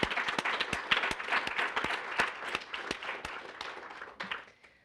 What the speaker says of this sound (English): join me in applauding for each and every one of these people.